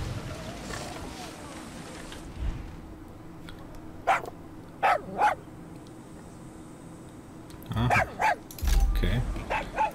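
A dog barks in Far Cry 6, a few short yaps in a quiet outdoor game scene, then more barking amid shuffling noise near the end.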